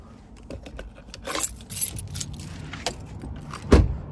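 Car keys jangle and clink in bursts of metallic rattles, close and fairly loud, ending with a sharper jingle, with no talking.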